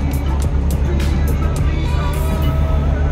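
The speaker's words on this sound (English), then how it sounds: "The Camaro ZL1 1LE." A Chevrolet Camaro ZL1 1LE on a hot lap at SEMA gives a loud, steady low engine roar from inside the car, with rumbling resonance and faint wind or road noise throughout.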